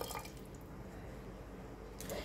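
Water poured into a pan to cook biryani rice, a steady continuous splashing pour of liquid, close and moderately loud, with no talking over it.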